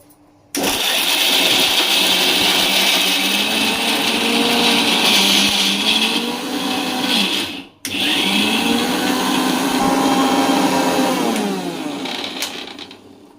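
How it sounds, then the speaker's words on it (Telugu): A kitchen mixer grinder whirs loudly as it grinds dried red chillies with garlic, running in two long bursts split by a brief stop, close and continuous with no talk. "మరి ఎండుమిర్చి ఎల్లిపాయలు వేసినాం కదా ఇది అలోపు మిక్సీ పడతాము"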